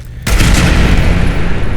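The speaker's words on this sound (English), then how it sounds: "The explosion actually killed him." A sudden loud explosion in Fallout 4 bursts in after a brief quiet moment, then rumbles on as a dense, crackling roar of debris and gunfire-like noise, close and sustained.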